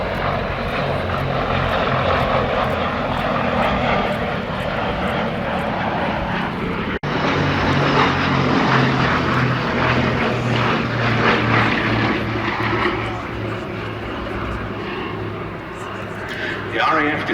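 A Gloster Gladiator biplane at the Duxford air show drones overhead with a loud, steady propeller and piston engine roar, while a commentator talks continuously over the public address.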